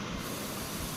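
A gas stove burner hisses just after being turned on to cook rice. It gives a steady, close, rushing hiss with no talking.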